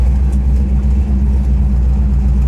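A blue 1963 Chevrolet Impala hardtop with its 409 V8 rumbling loud and close, a steady deep throaty idle through the exhaust that holds without pause or talk.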